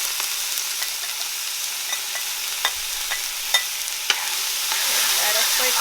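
Tomato and onion stirred and frying in a curry karahi pan for a Caribbean lobster and crab curry, a steady sizzle with scattered scraping clicks of the spoon against the pan.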